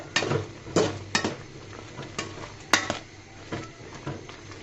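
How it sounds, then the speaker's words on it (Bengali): A utensil stirs taro leaf curry with raw mango in a pot, giving a series of sharp scrapes and clinks against the metal at irregular intervals over a faint simmering bubble. "দেখো বন্ধুরা, আমি আবারও নেড়ে ছেড়ে দিব।"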